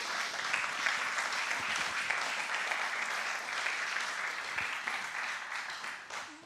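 A church congregation applauds the Lord together in a dense, steady wash of clapping that holds for several seconds and then thins out near the end.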